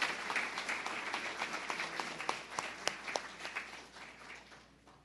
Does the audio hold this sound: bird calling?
no